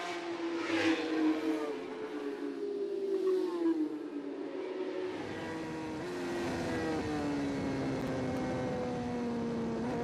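Racing motorcycles at the Macau Grand Prix accelerate out of the Lisboa corner during free practice, engines climbing in pitch in a continuous, fairly loud whine that holds steady across the clip.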